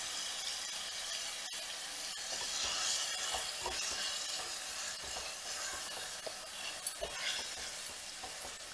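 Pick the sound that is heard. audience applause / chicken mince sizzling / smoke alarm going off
chicken mince sizzling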